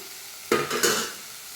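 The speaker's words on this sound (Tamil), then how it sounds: "அது நல்லா வதங்கட்டும்" Green peas sautéing in a hot pan with chilli powder, turmeric and a little garam masala, giving two sharp scraping stirs and a brief sizzle that quickly settles to a low hiss.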